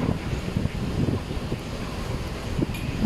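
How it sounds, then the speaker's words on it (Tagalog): Steady wind roars across an open ferry deck on the way to Matnog, with a low rumble and faint wash of water underneath; no voices. "Sarap mahangin kasi nagbibiyahe."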